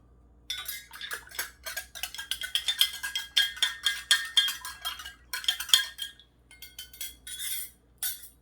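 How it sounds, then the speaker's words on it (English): A spoon clinks rapidly against the inside of a container while stirring sugar water for a bee hive, a close, bright run of metallic taps with brief pauses and no talking. "See, it only took a couple of stirs."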